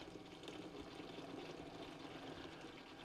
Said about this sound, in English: Fuel coming out there, and it looks like it's all being caught in the funnel.